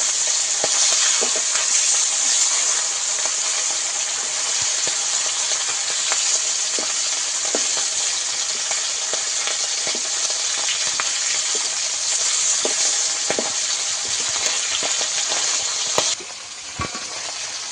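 Pieces of hilsa fish sizzle and spit in hot oil, a loud, dense frying hiss with scattered pops and crackles running steadily throughout, briefly dropping in level near the end.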